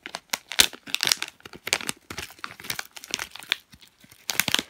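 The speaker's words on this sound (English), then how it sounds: "You rip it open from here." Plastic squishy packaging torn open by hand, with repeated sharp crinkling and ripping bursts close up, loud and irregular throughout.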